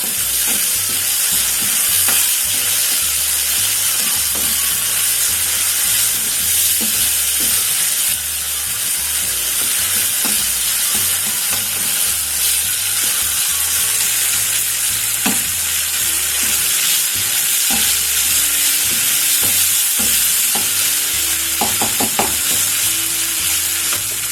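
Calzone filling frying in a pan with soy sauce, a continuous loud sizzle and hiss with scattered scraping clicks from stirring, close up, no talking.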